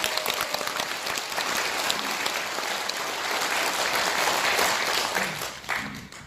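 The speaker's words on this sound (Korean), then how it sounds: "많은 박수를 여러분들에게 보내겠습니다." Audience applause at a conservative political debate forum in South Korea, a full hall clapping steadily and loudly for several seconds before trailing off near the end.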